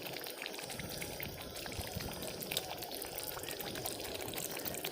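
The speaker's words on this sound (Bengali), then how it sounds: "আরও কিছুটা জল দিয়ে আমি কিছুক্ষণ ফুটতে দিয়ে দেবো।" Water pours steadily into a doi katla curry made with katla fish in a pot, a continuous close splashing trickle lasting throughout with no talk.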